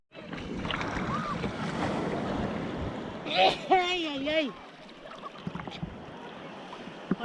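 Rough sea waves wash and slap around a small boat off Finale Ligure under steady wind noise, with a person exclaiming briefly in the middle.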